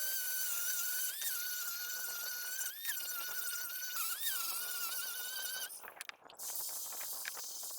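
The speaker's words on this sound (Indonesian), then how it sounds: "Lalu saya hamplas menggunakan hamplas gerinda memakai grit 80 untuk menghilangkan cat dan meratakan kayunya." Power sander fitted with 80-grit sandpaper stripping paint off and levelling painted wood while building a multipurpose wooden box; a loud, steady high whine with pitch dips as pressure changes, then a brief break and ragged grinding near the end.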